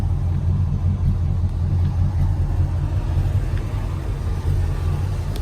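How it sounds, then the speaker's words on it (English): A 1961 Pontiac Catalina Safari station wagon's 389 cubic inch Tri-Power V8 idles with a new exhaust, a low, steady, quiet rumble close by that holds level throughout. "Engine's nice and quiet. It's got a new exhaust system on it."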